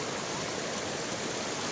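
River water rushes over large rocks in a steady, broadband wash, close and continuous with no other sounds.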